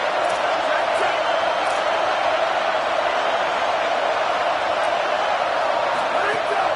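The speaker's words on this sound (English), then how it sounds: "This crowd going to try to make life miserable for these guys." A large college football stadium crowd produces a dense, continuous roar at steady loudness throughout, with no distinct peaks of cheering.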